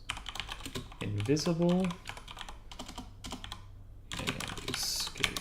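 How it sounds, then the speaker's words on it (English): A pen tapped against a computer keyboard in place of fingers, giving sparse, uneven clicks close by, with people talking over and between the taps during a tabletop role-playing game. "Typing with a pen is really hard."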